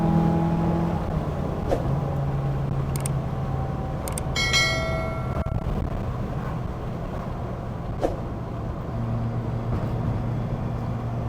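Interior of a JDM car cruising at about 60 mph: steady road and engine drone with low tonal hum throughout, a few brief clicks and a short ringing tone midway, no talking.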